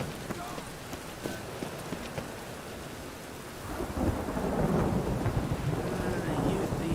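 A thunderstorm with heavy rain in the video game The Witcher 3: Wild Hunt: continuous rain hiss with thunder rumbling and growing louder toward the end.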